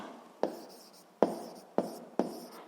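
Pen strokes writing out a physics solution on paper, four distinct scratchy strokes with short pauses between them, close and quiet with no talking.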